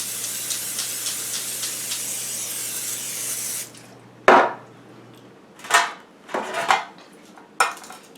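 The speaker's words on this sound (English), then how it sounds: "I'm going to spray it with a little bit of butter" A few seconds of continuous hissing from a butter cooking spray can onto a baking pan, followed by several separate clanks and scrapes of the metal pan being handled.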